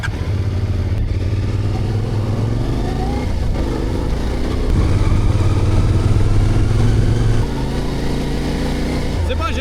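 Motorcycle engine droning steadily while riding across Morocco, a close, continuous hum with slight shifts in pitch as the throttle changes, loud throughout with rushing wind.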